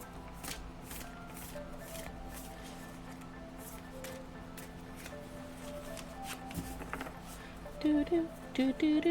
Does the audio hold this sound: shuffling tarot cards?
yes